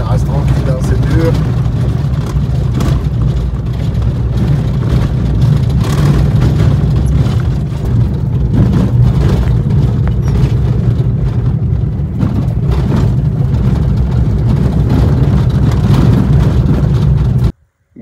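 A newly bought van rolling along bumpy dirt tracks, its engine rumbling steadily low with rattles and jolts throughout, while someone talks over the noise.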